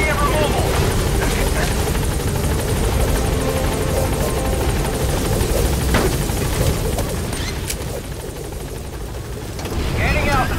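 A military helicopter hovering near a blocked landing zone in Metal Gear Solid V, loud continuous rotor drone and engine roar throughout, with a brief dip in intensity near the end and radio voices under it.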